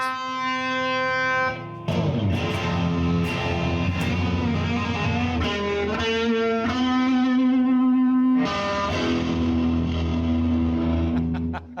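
A loud electric guitar rings out with distorted chords and sustained notes, strummed and held with heavy effects, played alone at full volume.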